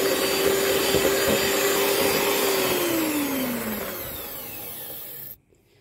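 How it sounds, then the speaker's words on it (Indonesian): An electric mixer whirs steadily while beating batter with sweetened condensed milk for a prune lapis legit cake. The loud, even hum drops in pitch near the end, then cuts off abruptly. "Mixer lagi sampai tercampur."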